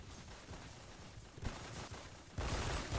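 Rapid bursts of gunfire from a close-range battle in a shooter video game, a dense crackling barrage that swells louder toward the end, with no talking.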